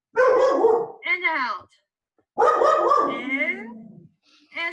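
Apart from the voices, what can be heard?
dog barking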